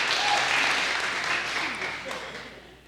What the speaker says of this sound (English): Can we cheer that again?